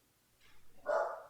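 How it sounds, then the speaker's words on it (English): A dog gives a single short bark, faint and somewhat distant, preceded by a few soft sounds in an otherwise quiet room. "if you can hear my dog barking"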